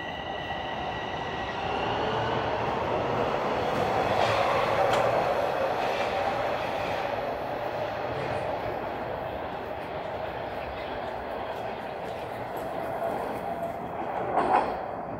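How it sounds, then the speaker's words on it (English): A southbound Toronto subway train rolls into a busy underground station with a loud, sustained rumble that builds and then eases, and faint wheel squeal rises near the end. "There we go, southbound train rolling in."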